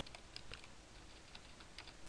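Typing on a computer keyboard, a quick steady run of light key clicks, close but faint over a hiss of background noise, with no voices.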